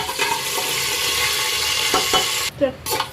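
Whole spices, bay leaf and cumin frying in hot oil in a pot for dal khichdi, a close continuous crackling sizzle with a few stirring knocks, cut by a short pause near the end before the sizzle returns, no voices.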